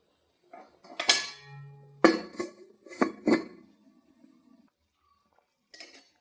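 A spoon stirs fish curry in a metal pot: a few sharp clinks and scrapes against the pot, close by, in short bursts with a long near-silent gap before a final faint clink.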